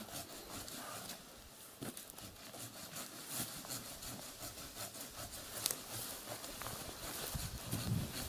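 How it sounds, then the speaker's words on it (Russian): A handsaw cuts through a tree in a village in August, making a continuous rasping scrape with faint irregular strokes, fairly quiet and steady throughout. "Ну что, давай, браток, пили."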